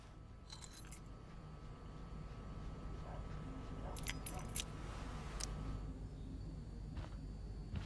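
Car keys are picked up from an ashtray in Life is Strange, giving a few bright metallic jangles in short bursts over a low ongoing background rumble.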